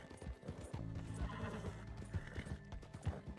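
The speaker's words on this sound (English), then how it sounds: "Come on, horse." Horse in Red Dead Redemption 2 video game, hooves clip-clopping in a steady gait with a whinny, close and fairly loud over game ambience.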